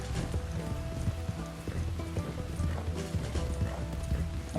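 Horse hooves clip-clop at a steady walking rhythm in Red Dead Redemption 2, close and distinct over a soft outdoor background with faint patter, no talking.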